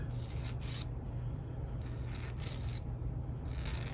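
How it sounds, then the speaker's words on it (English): Light, steady rasping of a small file on the edge of an HO scale steam engine model kit part, soft repeated strokes close by with a faint background hum. "So light filing around the edge."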